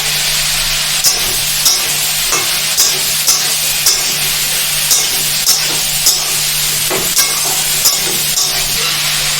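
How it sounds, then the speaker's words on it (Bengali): Ginger paste and green chilli sautéing for sabudana khichdi, a bright continuous sizzle with regular light ladle taps roughly every half second, close and fairly loud, no speech. "দিয়ে দেবো আদা বাটা হাফ চামচ এবার একটুখানি সামান্য কষিয়ে নেব"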